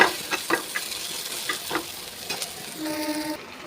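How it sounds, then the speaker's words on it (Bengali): Bottle gourd with salt stirred in a hot pan, a spatula scraping in irregular strokes over a steady close sizzle, with no voices. "নুনটা দিয়ে আবার একটুখানি নাড়াচাড়া করে নিলাম।"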